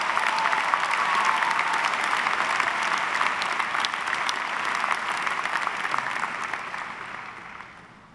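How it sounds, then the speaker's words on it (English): Sustained audience applause at a 2013 commencement ceremony, honoring parents and families: dense, even clapping from a large crowd that holds steady before gradually fading at the end. "Let's have another round of applause for all the parents and families"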